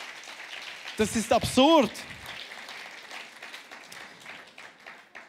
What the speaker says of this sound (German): Applaus für Raffi.